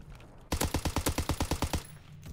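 Grease Gun submachine gun fires in a video game: about a dozen evenly spaced shots in one steady burst, loud and close, after a moment of quiet room tone.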